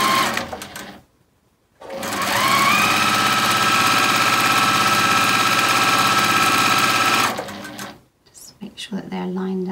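A sewing machine stitches a quarter-inch seam joining quilt squares, a fast steady whirring run of about five seconds between brief pauses, close and loud, with handling noise at the edges.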